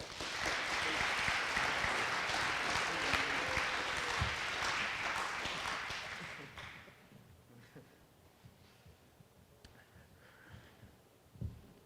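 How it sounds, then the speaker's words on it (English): A banquet crowd at a school football awards dinner applauds for a player, sustained dense clapping for about six seconds that then drops away to quiet room murmur and a few scattered sounds. "Let's have a big round of applause for Mr. Zane Shirley."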